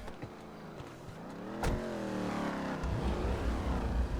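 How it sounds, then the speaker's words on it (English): Engine startup of a newly added DLC car in GTA 5 Online: a close, harmonic engine note that jumps with a sharp crank burst midway, then settles into a louder, steady rumbling idle with rising revs. No voices. "All right, let's listen to the startup."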